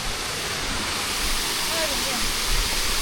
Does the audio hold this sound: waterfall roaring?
yes